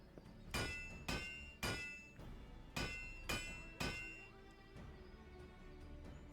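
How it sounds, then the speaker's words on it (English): A hammer strikes an anvil in Final Fantasy XIV, six ringing metallic blows in an uneven rhythm with a short pause midway, each clang decaying with a bright resonance, no voices. "just you watch what I could do with this old hammer and anvil"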